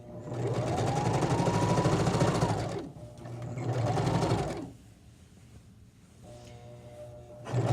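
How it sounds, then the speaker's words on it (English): Sewing machine stitching a pillowcase, two steady motor runs up close with a brief pause between, then the machine stops as the presser foot is lifted and the fabric turned, leaving quiet handling noise. "lift up my presser foot, turn my fabric, put down my presser foot, and then continue sewing"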